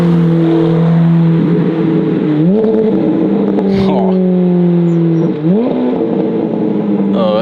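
A V8 engine revs at a cars-and-coffee gathering, its deep drone rising and falling in pitch twice, loud and steady throughout with people talking over it.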